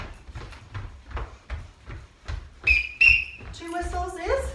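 A sports coach's whistle blows two short blasts as a signal during a children's at-home exercise session for ages 3 to 4, following a stretch of footsteps and movement noise.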